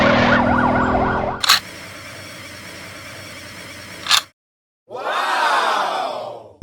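A toy LEGO ambulance siren wails loudly with a fast warbling pattern, then cuts out into a steady hum with clicks, silence, and a sweeping electronic tone.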